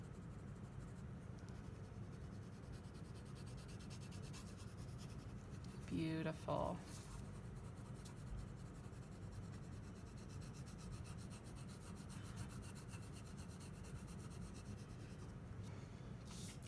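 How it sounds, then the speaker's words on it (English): Soft pencil shading strokes drawn lightly across paper with only the pencil's own weight, a quiet continuous rubbing and scratching at low level; a voice speaks briefly in the middle. "just letting the weight of the pencil itself come across the paper"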